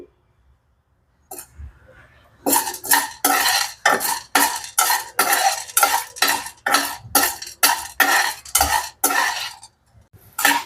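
Rice vadiyalu fry in a pan of oil over low heat while being stirred. About fifteen loud, steady scraping strokes follow a short quiet start, with little sizzle audible.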